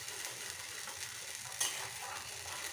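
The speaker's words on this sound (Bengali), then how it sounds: "আমি এইটা এতক্ষণ ধরে কষবো, কষতে কষতে এতে থেকে যখন তেল ছেড়ে যাবে তখন আমি মশলা অ্যাড করব" Peanut paste masala sautéing in a pan until the oil separates, with a steady soft sizzle and stirring scrapes, one brief louder clink partway through, fairly quiet and alone.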